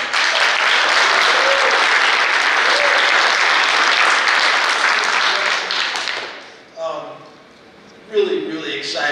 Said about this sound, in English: please give a loud round of applause for Coach James.